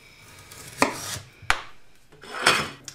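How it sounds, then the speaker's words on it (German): A knife chopping potatoes, onion and mushrooms into small cubes on a board, with a few distinct, close cuts spaced apart and no talking. "die werde ich jetzt alle ganz einfach in kleine Würfel schneiden"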